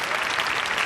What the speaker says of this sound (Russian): Ваши аплодисменты, друзья.